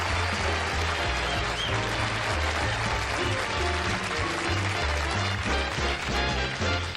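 Studio audience at a Johnny Carson television taping applauding to welcome David Letterman, steady loud clapping with band music playing underneath throughout.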